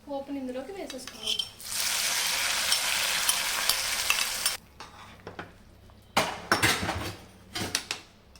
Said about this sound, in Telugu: పోపుని ఇందులోకి వేసేసుకుందాం.